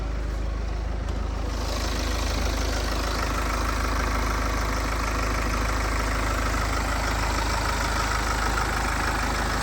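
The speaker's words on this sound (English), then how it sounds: "We've got the engine running." A BMW 420d Gran Coupe diesel engine idles steadily at close range with the bonnet open, a continuous low rumble with a broad mechanical hiss that stays even throughout.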